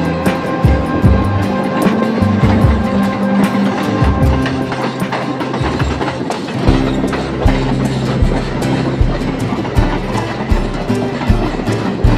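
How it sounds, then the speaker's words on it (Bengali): The Sabroom–Sealdah Kanchanjungha Express rumbles along the rails in a steady, loud roar, with repeated low clickety-clack thumps as wheels cross rail joints. "সামনে সাবরুম শিয়ালদহ কাঞ্চনজঙ্ঘা এক্সপ্রেস"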